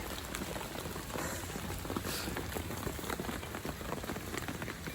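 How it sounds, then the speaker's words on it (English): Steady heavy thunderstorm rain patters and hisses on a surface, a dense continuous wash of drops with no thunder or voices. "Thunderstorm."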